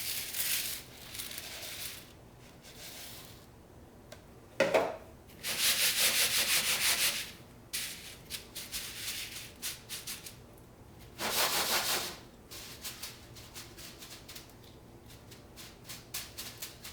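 Malted two-row barley grain scraped and spread across two long sheet pans, a dry gritty rasp in several bursts with quieter rustling between, close and alone.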